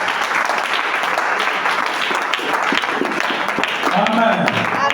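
A church congregation applauds loudly, with sustained dense clapping, cheering and voices throughout.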